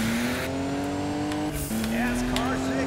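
A Mazda Miata race car's engine drones loud and steady in the Juiced 2 video game, pitch climbing gradually with a brief gear-change dip and faint tyre squeal, while a person talks over it.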